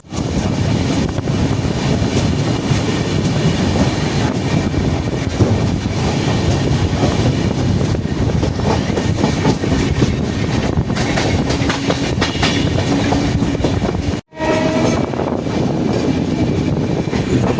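MAS SBC double decker express train running at speed, a loud, continuous roar of wheels and rattling carriages that briefly cuts out near the end and then resumes.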